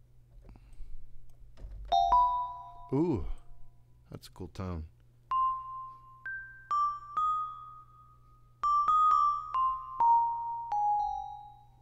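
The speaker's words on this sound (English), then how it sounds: "So I think bells. I'm always a fan of bells." Bell-like sampled tones played on a synth or sampler, a series of clear struck notes with ringing decay, some sliding in pitch, with someone talking briefly over the first few.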